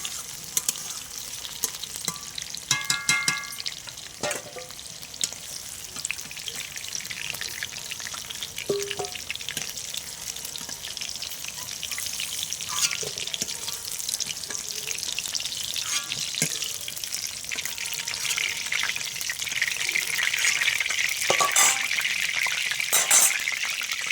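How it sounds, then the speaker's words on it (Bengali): Jackfruit seeds fry in oil left from frying pointed gourd, giving a continuous crackling sizzle with frequent close stirring scrapes that grow slightly louder toward the end. "কাঁঠালের বীজগুলো আমি আগে ভেজে নিচ্ছি"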